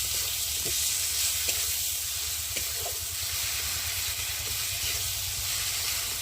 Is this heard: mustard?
yes